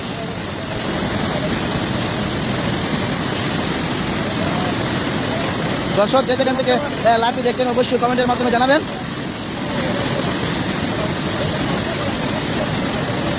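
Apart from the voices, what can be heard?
heavy rain falling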